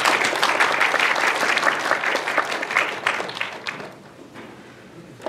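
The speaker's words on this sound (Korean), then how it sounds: "뜨거운 박수로 환영 부탁드리겠습니다." A crowd's dense applause welcoming a speaker at a speech recognition talk, loud and sustained at first, then thinning and fading out toward the end.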